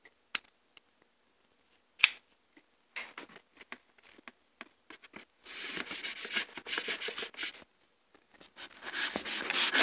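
A blade slices and scrapes through the cardboard and plastic packaging of a Sony PlayStation Classic box: a few sharp clicks at first, then scratchy rubbing and tearing that grows louder and more continuous toward the end, with no talking.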